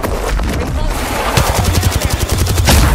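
Automatic weapon fire in the battle royale game Apex Legends: rapid bursts of gunshots, loudest in the second half with sharp sustained volleys, over a busy game soundscape.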